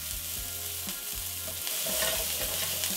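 Onions and carrots browning in a pan, a bright continuous sizzle with soft stirring scrapes and taps repeating through it, close and fairly loud, with no talking.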